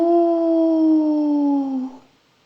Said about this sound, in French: Quelque part dans les rochers, un loup hurla.